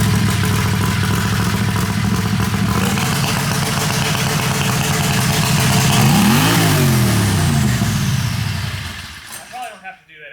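Turbo Predator 670 dragster engine held at about 2,500 rpm against the brake, a loud steady close roar, with a brief rise and fall in pitch midway before it cuts off and sputters near the end.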